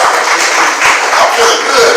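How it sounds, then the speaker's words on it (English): Audience applause at a spoken word poetry event, a brief burst of crowd clapping at fairly close range with no talking over it. "give yourselves a round of applause, y'all"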